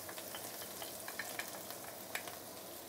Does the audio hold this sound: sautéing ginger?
yes